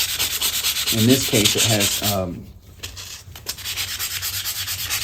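Rust is sanded off a metal part of a vintage Delta Rockwell 1460 wood lathe in quick, rhythmic rubbing strokes, close and steady, with someone speaking briefly over the start.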